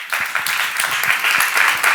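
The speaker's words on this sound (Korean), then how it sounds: "박수 좀 쳐봐." A church seminar audience breaks into applause, dense sustained clapping from many hands for a couple of seconds with a faint voice underneath.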